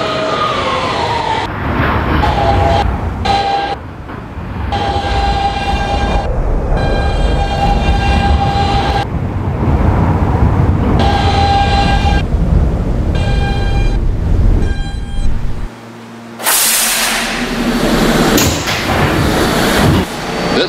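An R160B Siemens subway train on the BMT Broadway Line in a Roblox game hums and whines through its motors, with repeated tonal chimes and door signals and a brief drop to near silence before a bright hiss.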